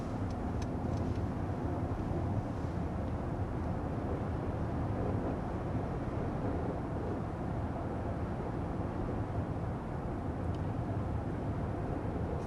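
Steady road noise fills the cabin of a 2023 Mercedes GLE 450 while driving, a constant low rumble and broadband hiss without change and with no one talking.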